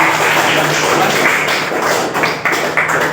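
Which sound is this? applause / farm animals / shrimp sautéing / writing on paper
applause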